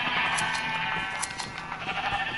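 Sheep bleating in the Minecraft video game: several short, close bleats over a steady wash of game noise, with no talking.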